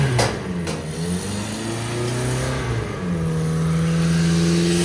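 A 2002 Maruti Gypsy, rebuilt and modified for off-road use, revving near the microphone after standing in the rain; the engine note climbs and settles in a couple of rising pulls, then holds a steady, strong idle.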